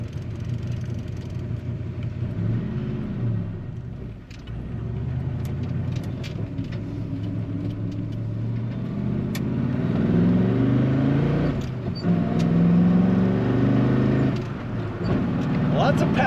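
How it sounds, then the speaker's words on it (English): A 1930 Ford Model A pickup street rod accelerates from inside the cab, its engine rumbling and rising in pitch through gear changes, with a voice talking over the steady motor noise. "Lots of pep in this little truck. It likes to get up and go quick."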